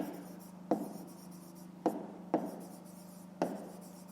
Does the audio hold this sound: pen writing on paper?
yes